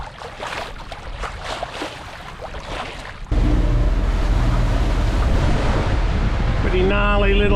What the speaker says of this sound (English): gnarly little ocean there today